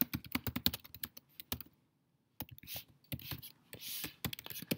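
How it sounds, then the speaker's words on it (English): Rapid bursts of typing on a computer keyboard, close and crisp clicks in uneven runs with a pause of silence midway, no talking. "Man, I cannot type today."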